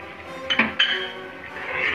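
A metal spoon scrapes and clinks against a pot of biryani while lemon juice, garam masala and coriander are mixed in, with a few sharp metallic knocks over a steady low hiss.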